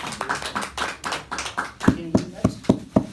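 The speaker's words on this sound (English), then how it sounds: "So we should all clap for Rudy" An audience claps in several sharp, evenly spaced beats at a presentation, each one loud and close. A voice is heard before the clapping starts.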